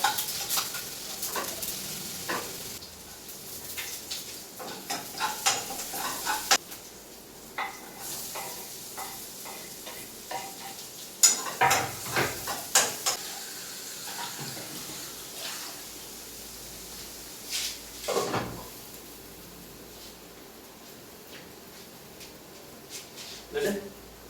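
Ginger, garlic and a little green chili frying in a pan give off a soft sizzle, broken by scraping stirs and clinks of utensil against pan, with people talking over it.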